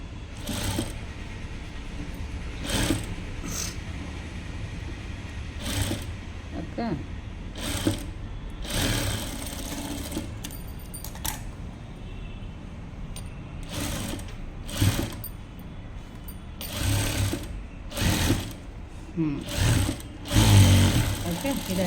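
A sewing machine top-stitching a small child's top runs in repeated bursts of rapid needle chatter, close and fairly loud, stopping and starting with brief pauses while a person talks between runs.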